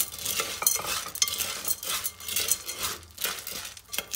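Popcorn kernels are stirred around a pan of melted butter, with close scraping and rattling strokes, light clinks and a soft sizzle underneath.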